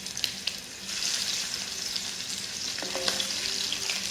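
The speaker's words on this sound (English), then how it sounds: "Okay, my pot already has some oil in. Okay, now let me put my meat in." Pieces of meat hit hot oil in a cooking pot and set off a steady, fairly soft sizzle and crackle that runs without a break, with a few light knocks and stirring sounds.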